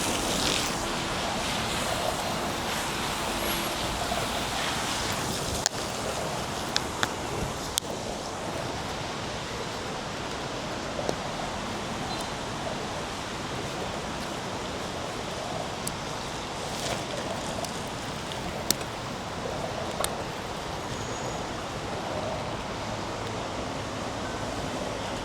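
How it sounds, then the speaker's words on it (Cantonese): Rain starting to fall on a city street, a steady broadband hiss with a few faint taps and distant street noise, continuous and even throughout. "開始落雨啦。"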